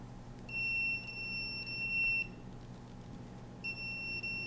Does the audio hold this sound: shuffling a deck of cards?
no